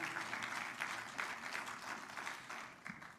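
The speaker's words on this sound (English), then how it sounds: "Can we all hear a round of applause for President Trump" An audience at a Washington event on national dietary guidelines claps for President Trump, with fairly faint, uneven applause from a crowd heard from a distance.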